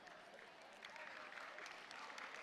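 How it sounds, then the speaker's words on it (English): Steady applause from a room of junior students at a global roll call event in Bangkok, a dense, continuous patter of many hands that swells slightly louder partway through, with no talk over it. "I like the supportive clap."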